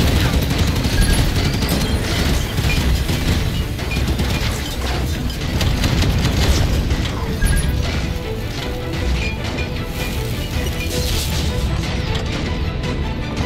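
Gunfire from the video game Halo 5 on a Legendary Guardians run: a dense, continuous barrage of shots, crashes and impacts keeps up without pause, loud and busy throughout.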